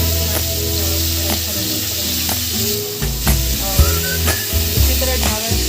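A bowl of tomatoes hits a hot pan of butter paneer base with cashews, and a loud, steady sizzle and frying hiss follows, with stirring clatter and scraping growing busier partway through.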